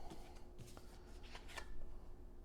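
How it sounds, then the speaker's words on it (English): A short burst of a new, stiff, sticky card deck being shuffled, riffling unevenly with a faint flutter, close by and quiet. "It's a fairly new deck, so it's pretty stiff and sticky and does not want to shuffle."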